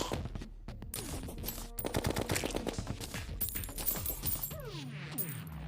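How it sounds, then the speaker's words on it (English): Rapid automatic gunfire from a gun in the video game Terraria, a dense stream of shots running continuously under bright chiming game effects and a descending whoosh near the end, with no talking. "I'm making them fly with how fast I'm firing this gun"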